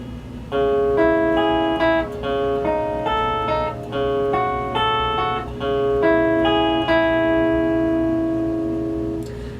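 Electric guitar picking the first half of a song's riff, clear single notes ringing out one after another in a short, steady phrase over a faint hum, close and unaccompanied.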